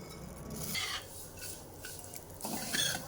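Homemade vermicelli being roasted in a spoonful of ghee, close dry scraping and rasping as a spoon stirs it around the pan in a few uneven strokes.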